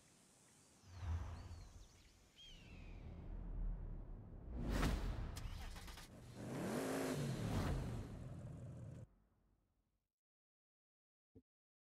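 Bugatti engine in the Forza Horizon racing game accelerating and revving through gear changes, loud and sustained for several seconds before cutting out abruptly into near silence and a brief click.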